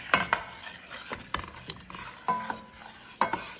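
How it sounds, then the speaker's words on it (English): Roux being stirred in a pot as it browns, with a spoon scraping and tapping in irregular strokes over a soft, low sizzle, quiet and close. "Keep stirring it. Keep stirring."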